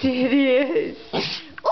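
A dog gives a quick sneeze right after a woman's affectionate baby-talk, a short sharp burst standing out between her words.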